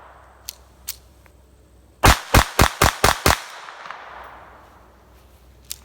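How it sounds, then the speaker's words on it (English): Six sharp gunshots from a .25 ACP pocket pistol fire in quick succession, loud and close, after a couple of faint clicks, with the echo trailing off afterward. "I'm just kind of pointing and shooting."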